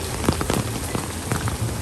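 Steady rain patters on surfaces outdoors at a Disney Animal Kingdom park, a dense wash of drops with scattered louder taps, fairly close and continuous with no voices.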